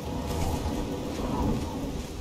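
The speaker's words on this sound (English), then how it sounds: "It's raining all the time." Rain pours down with a rolling, sustained rumble of thunder in the video game Oblivion, a dense, loud wash of sound throughout.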